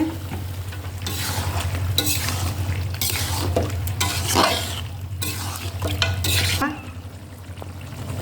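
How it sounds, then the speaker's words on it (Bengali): Chicken meat sautéing in a pan for a Sirajganj-style chicken and potato curry, with steady sizzling and repeated stirring scrapes running close and fairly loud throughout, easing slightly near the end. "সুন্দর করে ধুয়ে রাখা মাংসটা দিয়ে দেব, দিয়ে ভালোভাবে কষিয়ে নেব"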